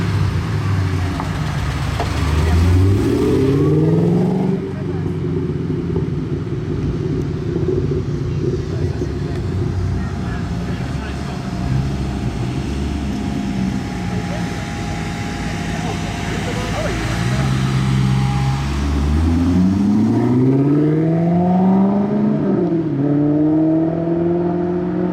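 Supercars such as a Ferrari Gran Turismo S accelerating at a car event, loud engine roars rising in pitch near the start and again near the end, with steady rumbling traffic and crowd noise between and people talking throughout.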